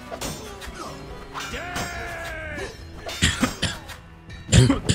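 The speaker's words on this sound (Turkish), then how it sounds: "Biraz mikrofonda öksürdüm ama" A man coughs into a microphone several times, sharp bursts clustered near the end, with some voice and background game noise before.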